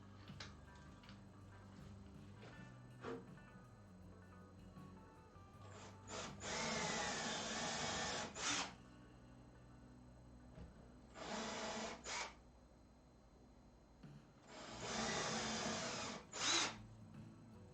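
Drilling with a 3mm bit during assembly of a Celeste 2.0 instrument: three loud bursts of power-drill whine, the first about two seconds long, then a shorter one and a final longer run, separated by quieter pauses with faint handling noise.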